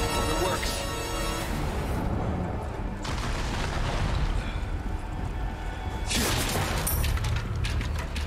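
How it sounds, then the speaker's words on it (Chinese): Cannon fire in the video game Resident Evil 4 Remake: loud booming blasts and rumbling gunfire spread over several seconds, with dense, heavy explosions and a player voice reacting over the game audio. "又系大炮啊！"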